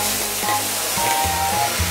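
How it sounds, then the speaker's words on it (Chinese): Crayfish sizzle steadily in hot oil as they are half pan-fried in a home wok, a loud continuous hiss and crackle with low clanks of the pan and lid beneath it. "这油温啊烧到大概六成热的时候，我们开始把这个小龙虾啊半煎半炸"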